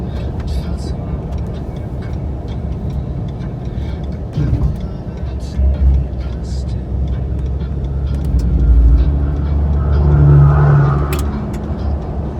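Vehicle rumbling onto an unmarked dirt road into the Maze District of Canyonlands, a continuous low engine and road roar with bumps and rises while people talk over it.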